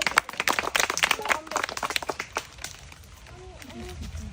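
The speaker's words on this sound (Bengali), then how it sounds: "হাততালি দেন সবাই" An audience claps during a kids' spin-the-wheel prize challenge, with brisk, uneven bursts of close applause in the first half that thin out, while voices and chatter carry on underneath.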